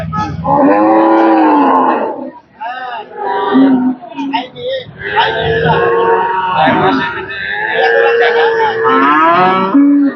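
A dairy cow, a pregnant milking cow for sale at a market, moos loudly several times over about ten seconds while people talk nearby.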